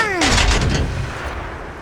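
A tank cannon fires in World of Tanks, a single sharp blast followed by a rumbling, fading boom over about two seconds, loud and close.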